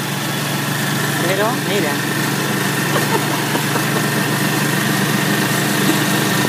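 A doorless motorcycle taxi idles with a steady mid-pitched engine drone, close and continuous, while people talk over it.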